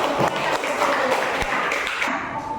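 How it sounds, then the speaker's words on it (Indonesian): A classroom group gives applause for a presenting student team, a short burst of scattered clapping with some voices mixed in. "tepuk tangan untuk kelompok 1"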